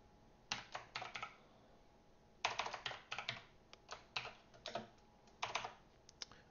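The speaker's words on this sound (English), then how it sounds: "it has been a while since I've done any real hardcore typing." Bursts of fast typing on a computer keyboard, clustered key clicks in quick runs with short pauses between, close and clear against a quiet background while compiling Dart code.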